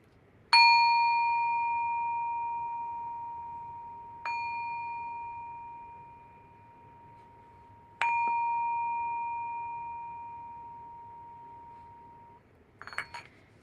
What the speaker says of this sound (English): Gonna ring the bell, so if you have headphones on, be careful.